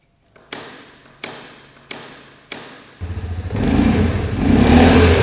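An ATV quad's engine starts after four loud, evenly spaced thumps, then idles and rises into a steady, close revving growl.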